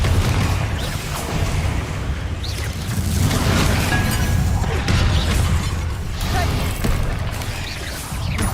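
A Confringo fire spell explodes in Hogwarts Legacy on PS5 amid continuous loud rumbling booms and crashing game effects, dense and sustained with no clear breaks.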